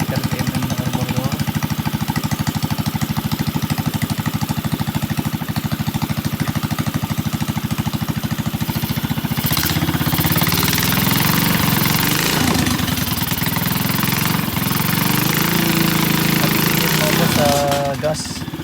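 A small engine fitted with a new 30mm carburetor idles with a steady, close, chugging putter, its pulse slowing and shifting midway, with a brief rev near the end.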